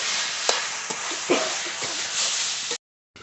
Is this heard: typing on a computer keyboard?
no